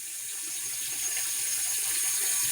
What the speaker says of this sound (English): So keep turning the water on.